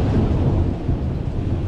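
Thunder rumbling during rain in California, a loud low steady roll under a dense wash of rainfall.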